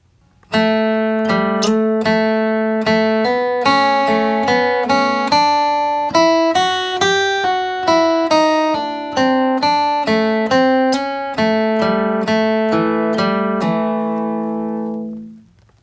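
A bright flatpicked acoustic guitar melody, the bluegrass tune Salt Creek, picked note by note at a steady, lively pace, clear and close, ending with a final ringing note that fades.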